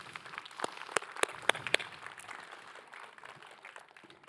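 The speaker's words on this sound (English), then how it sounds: "big applause for the brave participant" Audience applause at a talk on learning through game experience and agility, beginning with a few loud, separate claps that blend into a softer, sustained patter of clapping from a modest crowd.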